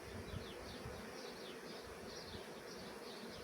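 Honey bees buzz steadily around a hive box holding a caged mated queen, a dense continuous drone of many wings close by with no voices.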